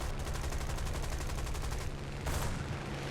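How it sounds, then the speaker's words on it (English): Machine guns firing from a Hawker Hurricane Mk 4 fighter plane in the War Thunder video game, a rapid continuous rattling burst over a steady engine drone, pausing briefly before another short burst resumes. "I think we can get him with our machine guns."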